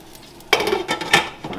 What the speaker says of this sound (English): Now we're going to take our lid and we're going to cover that.